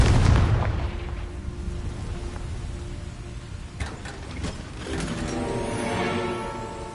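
The Confringo fire spell goes off in Hogwarts Legacy as a deep boom with rumbling mechanical debris, followed by a few sharper cracks and a sustained crackling roar.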